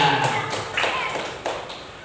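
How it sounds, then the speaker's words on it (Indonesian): Students clapping hands in a few quick, separate bursts of sharp taps, close and fairly loud, at a school event. "Iya, tepuk tangan juga."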